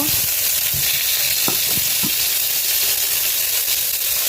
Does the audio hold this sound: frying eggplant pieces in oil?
yes